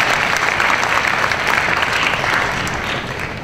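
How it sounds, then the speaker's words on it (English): Concert audience at a school honor festival concert applauds the parents, a steady dense clapping that stays loud throughout, with no voices heard. "let's give a big round of applause to the parents for all of their contributions to tonight's success"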